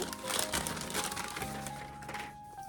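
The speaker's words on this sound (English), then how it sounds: "Unwrap it." A wrapped book being unwrapped, quiet crinkling and tearing of the wrapping in short bursts at close range, with a faint voice in the background.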